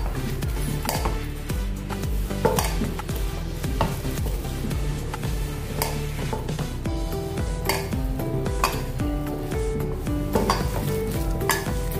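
A veg Manchurian mixture being stirred with a little oil in a bowl, with repeated scraping, clinks of a spoon against the vessel and soft wet mixing sounds, close and continuous without talk.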